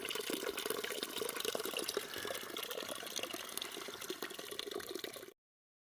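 Spring water flows straight out of rock beside the Appalachian Trail near Newfound Gap Road, a steady close trickle and splash running alone for about five seconds before cutting off.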